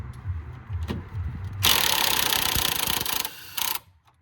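An impact gun works on the anti roll bar link nut of a 2nd-generation Ford Focus 1.6 TDCI at home, a loud harsh buzzing rattle lasting about two seconds, stopping, then a brief second burst.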